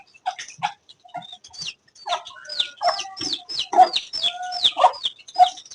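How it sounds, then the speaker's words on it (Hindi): A hen out in the open clucks repeatedly while looking for her chicks, a close, fairly loud series of short clucks and calls that gets busier toward the end. "ये मुर्गी निकल आई है, चूजों को ढूंढ रही है, अपने चूजों को"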